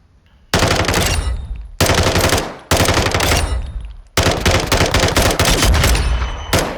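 Automatic gunfire in Modern Warfare 2, loud close full-auto bursts of rapid shots in four or five long strings separated by brief pauses, no voices.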